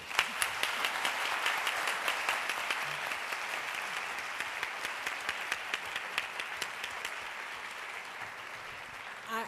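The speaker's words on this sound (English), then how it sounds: "I hope your applause signals how much you got from this conversation" Steady applause from an audience at a discussion event about race, moderately distant, with individual sharp claps standing out rhythmically over a continuous wash of clapping throughout.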